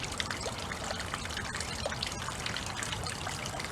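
A garden pond waterfall trickling and splashing in a steady, continuous wash of running water, faint and unbroken with no voices.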